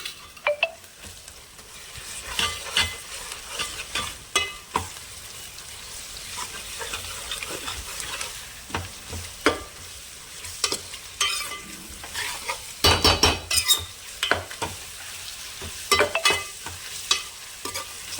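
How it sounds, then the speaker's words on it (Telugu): Onions, green chillies and curry leaves fry in a pan for chicken curry, a continuous close sizzle broken by frequent sharp scrapes and clinks of a spoon stirring against the metal, with no talking. "ఇది కొంచెం ఉల్లిపాయలు, పచ్చిమిరకాయలు, కరివేపాకు వేగుతున్నాయి కదండి"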